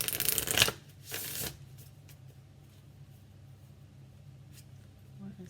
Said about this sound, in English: I'm shuffling a little bit off just because I don't want it to put out these candles here.